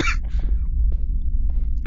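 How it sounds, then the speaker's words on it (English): A person lets out a short, sharp cough at the start, followed by a few fainter throat noises over a low, steady background hum. "sorry for coughing"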